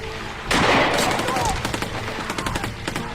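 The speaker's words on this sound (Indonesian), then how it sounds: "mereka berpapasan dengan prajurit Vietnam Selatan dan baku tembak yang intens pun" Intense gunfire bursts out in a firefight with South Vietnamese soldiers, a loud sudden blast followed by rapid automatic volleys and scattered shots, with speech mixed in underneath.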